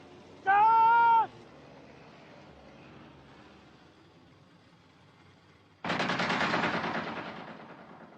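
Gunfire in a desert war film, a sustained burst of rapid shots near the end, loud and close, after an earlier shrill cry and a quieter stretch.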